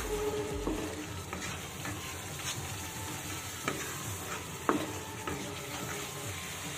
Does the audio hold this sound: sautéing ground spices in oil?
yes